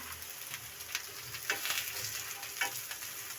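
Vegetable kebabs frying in a pan, a quiet continuous sizzle with small crackles and brief spatters, close and steady with no talking.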